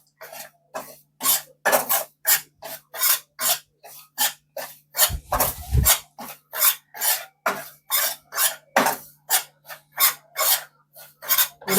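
One and a half cups of semolina dry roasting over low heat in a pan, with a steady run of rhythmic scraping strokes, roughly two or three per second, close and clear with no talking.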